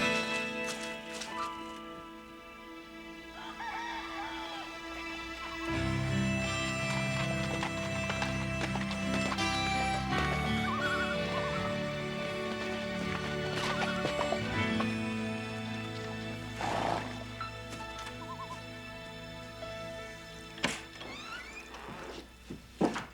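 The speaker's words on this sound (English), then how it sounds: "Otto, saddle up the horses." Horses in a Western drama whinny and clop their hooves amid a dense orchestral score, the neighing rising near the middle and the hoofbeats scattered beneath the music throughout.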